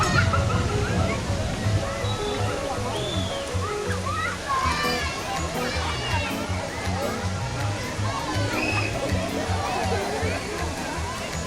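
Water sloshes and splashes continuously from a pirate-themed water cannon ride at a children's theme park in Guatemala City, a loud, steady wash with children's voices and chatter mixed in.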